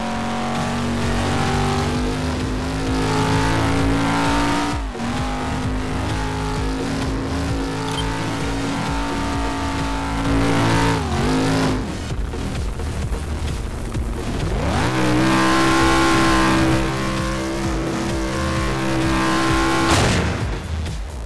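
A Dodge Challenger engine in the Gmod ACF video game revs hard and loud, climbing repeatedly in pitch, with abrupt drops at each gear change and a final rising surge.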